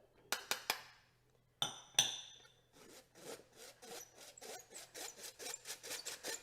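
Flour, cocoa powder, salt and baking soda are sifted through a metal strainer, starting with a few sharp taps and clinks, then a fast, even run of soft rhythmic scraping strokes, close and fairly quiet.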